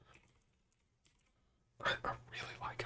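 Typing on a mechanical keyboard with blue switches fitted with pudding keycaps: a few sparse clicks at first, then a dense burst of sharp, close keystrokes, with a voice speaking over the typing.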